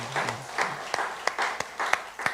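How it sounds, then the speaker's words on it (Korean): Congregation at a church gathering applauds together, a steady wash of clapping with a few sharper claps standing out, fairly quiet and close, with a brief voice at the start. "우리 팔려선 교회 박수 한번 할까요?"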